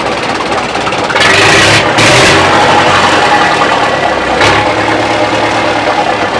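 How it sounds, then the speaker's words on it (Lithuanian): An old DT-54 tractor's diesel engine idles at low revs, running smoothly without smoke. The steady, even rumble continues close by throughout. "variklis pakankamai dirba gražiai"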